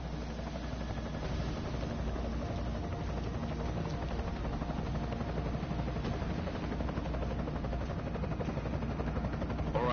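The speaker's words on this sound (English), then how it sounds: "Enemy helo sighted." An enemy helicopter in Deus Ex: Mankind Divided, a dense, continuous rotor thrum with whirring engine noise, loud and steady without letup.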